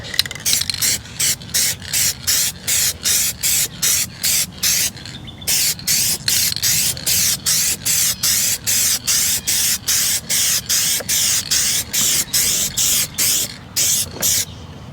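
Plasti Dip aerosol coating is sprayed onto a Toyota Tundra in short, rapid, evenly spaced hissing bursts, close and loud, repeating steadily with one brief pause along the way.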